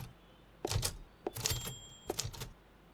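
Typewriter keys clack in the horror game The Last Case of John Morley: three short, quiet bursts of rapid mechanical taps with small bell-like rings, separated by brief pauses.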